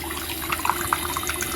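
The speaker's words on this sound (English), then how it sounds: "I'm going to increase the water." A bathroom sink faucet runs steadily with water pouring into the basin during a stuck stopper plug repair, a soft continuous hiss with a few brief splashy spikes, close by and with no one talking.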